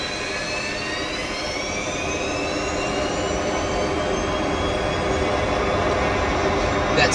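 A Boeing 727 jet engine in a flight simulator spooling up under increased throttle, its whine rising steadily in pitch and growing slightly louder over several seconds, with no talking.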